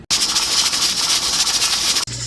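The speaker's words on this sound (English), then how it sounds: "You want a mellow steam and a mellow rock." A pressure canner processing spaghetti sauce hisses steam loudly and steadily, the rocking weight adding a faint rhythmic rattle, before the hiss cuts off abruptly and a low hum remains.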